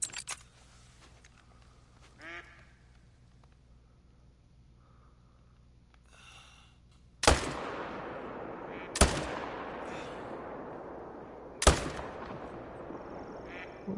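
Three sharp rifle shots ring out at a mule deer in theHunter: Call of the Wild, each a loud crack followed by a long rolling echo across the open terrain, with quiet ambience between.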